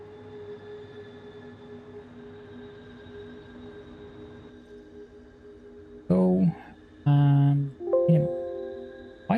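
Train ride in the video game Satisfactory: a steady low rolling hum of the moving train, then loud tonal squeals and horn-like blasts in short bursts near the end, no talking.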